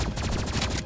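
Desert Eagle pistol fire in the Rivals video game, a rapid burst of loud, close, punchy shots in quick rhythmic succession with no talk over them.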